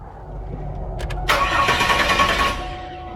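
A 1996 Chevrolet Camaro RS cranking over, then catching and firing into a loud, steady idle that settles slightly toward the end, recorded close with no talk.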